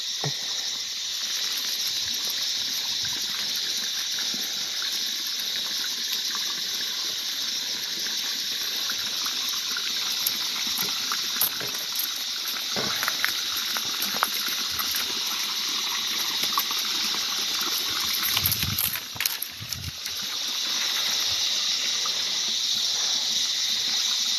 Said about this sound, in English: But this is quite a sad bit of a flow, really. Accommodation creek here.